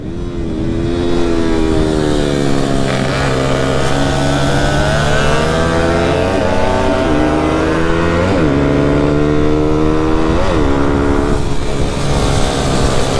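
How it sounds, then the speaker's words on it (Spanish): A supermoto motorcycle at a race track passes close by, its loud engine note revving and climbing through gears, steady and continuous for the whole stretch, no voices. "Ahí pasa Santa María en la supermoto"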